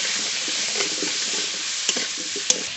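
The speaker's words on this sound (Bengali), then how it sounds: "আলু ভালো করে ভেজে নেব।" Cut potatoes fry in mustard oil in a pan with a steady, soft sizzling hiss, broken by a few light stirring scrapes and small pops, close by and without speech.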